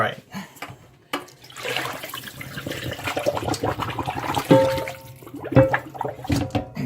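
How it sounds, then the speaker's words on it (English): Water from a tap runs steadily into a cast iron pan to refill it after it has been emptied, with a person talking over the continuous rushing splash. "the pan is now empty of water, and I'm refilling it with clean water"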